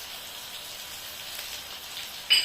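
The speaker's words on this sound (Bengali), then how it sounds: "আদা রসুন পেস্টটা আমি একটু ভালো করে ভেজে নেব" Salted-free ginger garlic paste frying in a pan with ground coriander, cumin and red chilli powder, giving a faint, steady sizzling hiss with a small clatter near the end.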